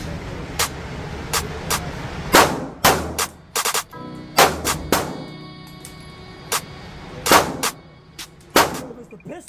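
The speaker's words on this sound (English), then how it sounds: "So this is the first time I'm shooting this gun." Pistol shots ring out at a shooting range: about a dozen sharp, loud, close reports at uneven intervals, some in quick pairs, with a brief metallic ring after several.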